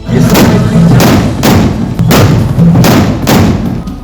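Loud, rapid gunshots crack repeatedly in quick bursts, each a heavy booming thud, close and continuous over a few seconds, fired during a celebratory victory procession.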